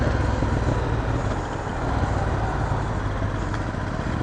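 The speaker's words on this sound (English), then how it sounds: "It's got a lot of vibrations, but it just feels like a grumbly bike" A motorcycle engine runs with a steady low, grumbly rumble and a constant vibrating texture, moderately loud and close, no voices.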